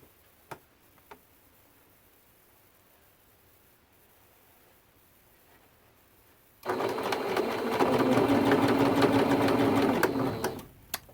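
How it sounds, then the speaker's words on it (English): A sewing machine runs a steady straight line of stitching along a quilt's binding, a sustained close hum lasting several seconds after a quiet start with a couple of faint ticks. "I'm just sewing straight all the way down until we come to the next corner."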